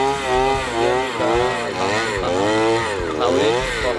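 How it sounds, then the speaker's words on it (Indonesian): A small petrol engine on a soil auger, an earth-drilling machine with interchangeable bit diameters used for biopore holes, runs loudly and steadily. Its pitch rises and falls as it revs. "Kalau ini ada mesin bor tanah ya."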